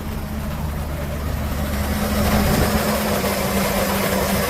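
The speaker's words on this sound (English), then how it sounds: "Engine sounds really good." A 2007 Chevrolet K3500 cab-chassis truck with a 6.0 gas V8 and a flatbed idles steadily close by, a continuous low rumble with an even hum and no knocks or revving throughout.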